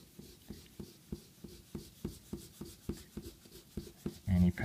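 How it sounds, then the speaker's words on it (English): An eraser rubs pencil marks off paper while a Celtic knotwork drawing is being cleaned up. The strokes are close and dry, a steady back-and-forth rhythm of about ten scrubs, with a louder scuffing burst at the end and no talk. "Actually, we're going to start with our eraser."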